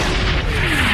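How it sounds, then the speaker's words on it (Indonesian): A Panzer tank cannon fires in a war film, a single short heavy boom with a blast of noise under a faint high whine. "Beruntung tembakan tank panzer hanya menggores tank Hellcat."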